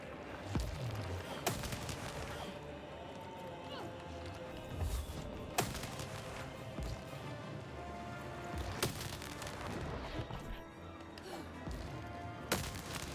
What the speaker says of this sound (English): And we will just shoot crystals.